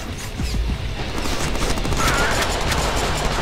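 Dual Uzi submachine guns fire in the Deadpool video game as a dense, continuous burst of rapid gunfire. It stays loud and steady throughout, with scattered impact clatter over it.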